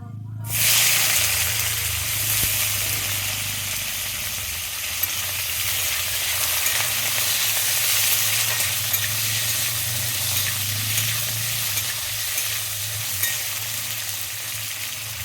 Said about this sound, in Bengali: দিয়ে আমি একটু আলুটাকে ভেজে নিচ্ছি